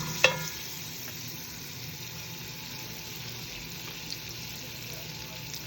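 Butter melting in a hot pan for steamed mussels in white wine butter sauce gives a steady, even sizzling hiss after a single sharp clack, close and continuous with no talking.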